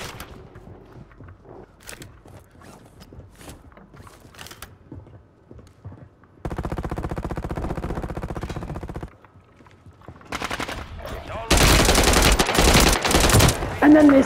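Gunfire in a video game shooter: scattered clicks and footsteps, then long bursts of loud automatic fire, a brief lull, and a final heavy barrage of rapid shots.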